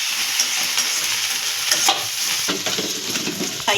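Fish frying in hot oil in a pan, a loud, steady, close sizzle with occasional bursts of crackle and spatter throughout.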